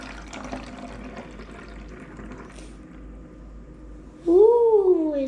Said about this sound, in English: we're gonna pour 200 milliliters of water into the chemical flask